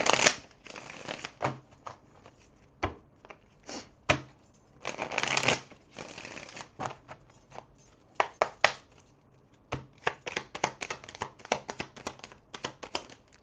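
Tarot cards are shuffled by hand in a quiet room, with close, soft riffling and flicking bursts and taps coming in irregular clusters throughout.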